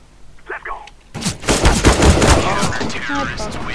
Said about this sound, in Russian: Я с калашами умею стрелять